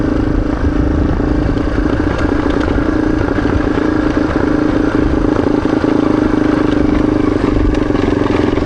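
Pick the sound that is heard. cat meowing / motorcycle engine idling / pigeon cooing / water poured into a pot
motorcycle engine idling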